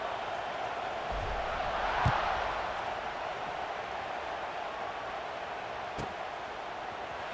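A stadium crowd in College Football 26 buzzes right after a score, a steady broad roar that swells slightly and holds, with a faint thump partway through and no clear talk.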